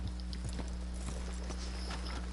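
Horse hooves clip-clopping at a steady pace while riding in Red Dead Redemption 2, soft repeated hoofbeats heard over constant low rumble and ambient background.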